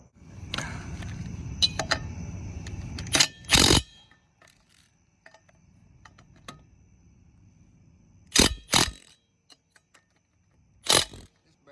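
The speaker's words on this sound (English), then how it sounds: "put this battery on, tighten the lug nuts up" A battery impact tool tightens lug nuts on an RV trailer wheel outdoors, a long buzzing run followed by short sharp bursts spaced apart, loud and close against quiet background.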